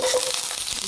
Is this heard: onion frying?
yes